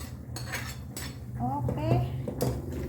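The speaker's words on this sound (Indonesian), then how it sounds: "sekarang kita masukkan bawang gorengnya." Fried shallots tipped into a pot of cooked spinach and stirred, giving scraping clinks of a utensil against the pot, close and moderately loud, with some talk in between.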